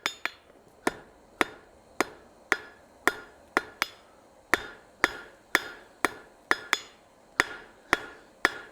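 A hammer forges a decorative hacksaw over the horn of an anvil in a steady, evenly spaced series of about seventeen sharp, ringing metal strikes, close and loud.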